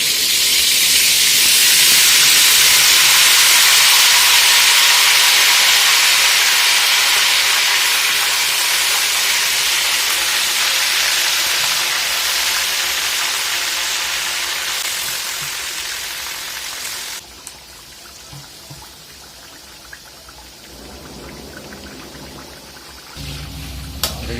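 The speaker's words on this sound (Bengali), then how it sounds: "তেলটা একটু গরম হলে ম্যারিনেট থেকে চিকেনগুলো তুলে তুলে হালকা হালকা এরকমভাবে দিয়ে দিই" Marinated chicken pieces with cashew and melon seed paste fry in hot oil, giving a loud broad hissing sizzle that slowly fades, then turns quieter and lower after a sudden shift, with a few faint clicks.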